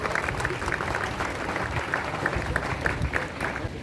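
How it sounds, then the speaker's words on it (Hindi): A crowd claps steadily and evenly throughout to welcome a speaker, a dense patter of many hands at moderate distance with no pauses. "जोरदार तालियों से हम लोग स्वागत करेंगे।"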